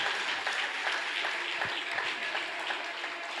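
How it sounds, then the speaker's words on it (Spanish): A church congregation claps together in worship, a sustained, moderately loud wash of applause with scattered distinct claps rising out of it, heard from within the room. "darle un aplauso más fuerte al Señor"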